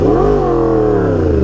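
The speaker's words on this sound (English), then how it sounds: "I'm way over revving." A Yamaha R1M sport motorcycle engine revs hard near redline, a loud, close whining drone with rising and falling harmonic tones that hold at a high pitch, with no talk.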